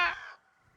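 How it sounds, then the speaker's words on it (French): A single crow caw from the video game Grounded, one short harsh call that quickly fades into near silence. "Oh, les bruits de corbeaux, au secours!"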